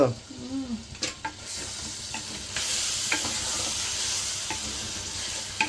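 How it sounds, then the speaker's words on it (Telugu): Crab masala curry sizzles and frying steadily in a pan, Rajahmundry style, with a few clicks and stirring clatters early on, then a louder, continuous hiss as cooking carries on close by. "మూత పెట్టేసి ఒక రెండు నిమిషాలు ఈ పీతలకి మొత్తం మసాలా అంతా పట్టేదాకా ఉడికించేసుకుంది"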